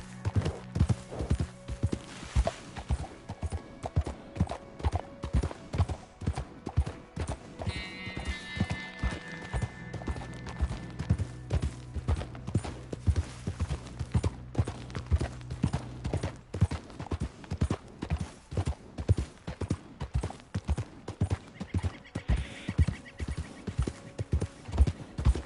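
Horse hooves clip-clop in a steady galloping rhythm in the video game Red Dead Redemption 2, close and continuous, with occasional whinnies and a voice briefly talking over them.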